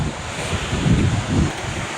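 Black Sea surf rolls in steadily, a loud, continuous wash of waves with swelling surges, heavily mixed with wind buffeting the microphone and no talk.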